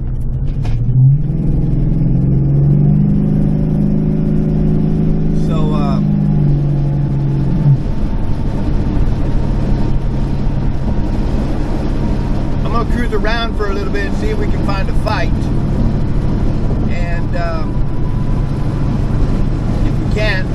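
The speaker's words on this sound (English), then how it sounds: "you can hear that there's not really a lot of motor noise or motor drone in the truck" A steady low engine rumble runs throughout from inside a Chevrolet C10 pickup truck with an LS engine swap, quiet and droning, with a person talking over it.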